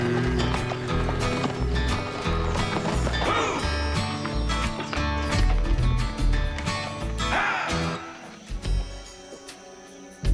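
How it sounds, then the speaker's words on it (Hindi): A horse carries Sarah at the front while a nun is dragged behind on a tether, its hooves clip-clopping in a steady rhythm beneath dense, loud music throughout. "Sarah rides a horse up front, but the nun is being dragged on a tether."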